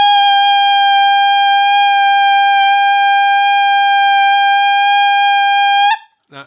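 A brass mouthpiece buzzing a single sustained C for about six seconds, loud, close and steady, ending with a brief upward slip of pitch, with no talking.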